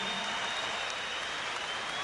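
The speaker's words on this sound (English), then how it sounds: "Ladies and gentlemen, a round of applause for both boxers who gave their all." A boxing crowd claps steadily as a fight ends, a soft, distant wash of applause lasting a couple of seconds with no voices on top.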